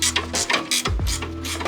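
A ratchet wrench tightening suspension bolts during a BC Racing coilover install on a 10th-gen Honda Accord, giving a few quick close clicking bursts followed by a heavier clunk, no talking.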